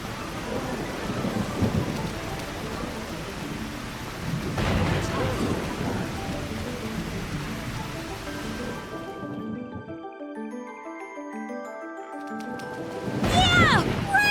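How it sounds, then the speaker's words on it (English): Steady rain pours with rolling thunder rumbling through it in a video game, then briefly drops out before a loud burst returns; voices speak over the storm. "Finally, some rain."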